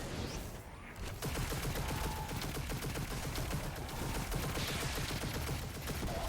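Auto rifle fire in the video game Destiny 2 runs as a continuous rapid automatic burst, dense and loud, from near the start through the end of the clip with only a brief gap.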